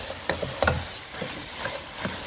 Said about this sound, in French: j'ajoute maintenant mes 1 kg de riz. Et je mélange.